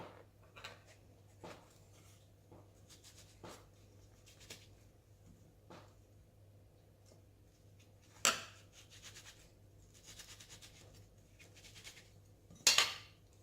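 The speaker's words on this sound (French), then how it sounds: "on va prendre mon porte-pièce et on va hop, couper." A cookie cutter presses through thin unicorn shortbread dough, giving soft scattered taps and light scrapes against a quiet background, with two sharper clacks near the end.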